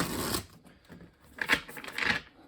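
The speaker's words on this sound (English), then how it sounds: "do another big shuffle like this one more time" A few quick riffling card shuffles in bursts of crisp, papery fluttering, separated by brief quieter pauses.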